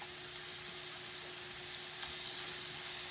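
Small turkey slider patties sizzle in garlic grapeseed oil in a frying pan, a steady close hiss of frying that holds evenly throughout with no talking.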